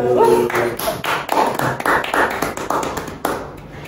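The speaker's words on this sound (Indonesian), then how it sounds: "tepuk tangan dulu." An audience at an education seminar claps in short uneven bursts, individual hand claps audible and fairly close, with a voice briefly heard at the start.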